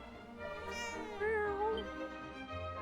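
A cat meows in the video game Dragon Quest VII Reimagined, a single drawn-out, rising and falling mew heard over soft game music, fairly quiet and close.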